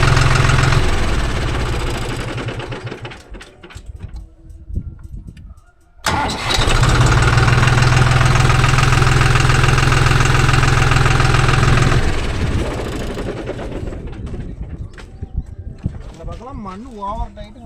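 A Deutz-Fahr Agrolux 50hp tractor engine idles loudly and steadily, cuts out briefly, then restarts with a surge and settles back into a close, rumbling idle.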